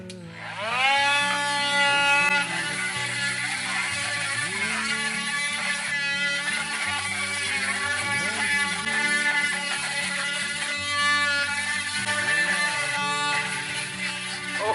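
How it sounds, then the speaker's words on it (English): Dremel rotary tool with a small diamond burr cleaning out a Lambretta fast-flow fuel tap, a continuous high-pitched whine that rises and falls slightly as it bears on the metal, loud and close. "we're going to clean all the crap out of it with my Dremel. I've got a little diamond bear on here"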